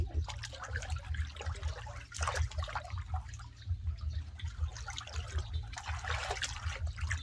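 Water splashing and trickling as someone sits and plays in a river on a hot day, a steady close wash of liquid sound with small splashes, under a constant low hum throughout.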